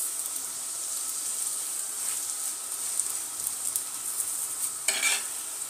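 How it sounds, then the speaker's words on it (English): Chapati frying with added cooking oil in a pan, with a steady, fairly faint sizzle that runs throughout and flares briefly near the end. "after it has started cooking, forming the patches, you'll add some cooking oil"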